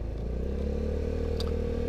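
A Suzuki Spin 125 scooter-style motorcycle fitted with an RRGS aftermarket exhaust runs at a steady, mellow idle, its low engine rumble continuous and moderately close with no talking.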